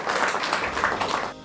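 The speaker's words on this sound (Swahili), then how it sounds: "A round of applause" An audience at a public health event on universal health coverage applauds, steady dense clapping filling the room at even loudness before trailing off at the end.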